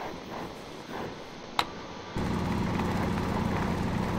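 A heavy drill in Stationeers grinds into coal with a loud, steady mechanical roar that starts abruptly partway through, after a quieter hum and a brief sharp click.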